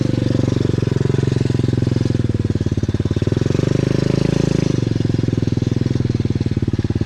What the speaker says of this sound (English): Let's see if I can burn the bike tire out.